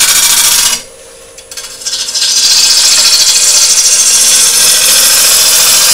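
Chisel cutting a wooden bowl blank spinning on a lathe, shavings flying, a loud continuous rasping hiss that drops away briefly and then returns steady and harsh.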